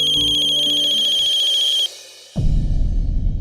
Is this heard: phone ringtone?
yes